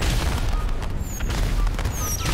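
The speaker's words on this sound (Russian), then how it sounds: "Битва на салютах." Fireworks going off in a firework battle in GTA 5 Online, with a steady barrage of booming blasts and crackling bursts, plus a few high whistling streaks, loud and continuous throughout.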